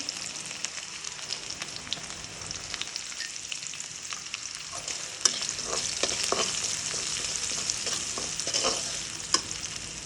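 Onions frying in hot oil for a shrimp and Malabar spinach dish, giving a steady close sizzle with scattered crackles and a few sharp stirring clicks, growing slightly louder midway; no talking.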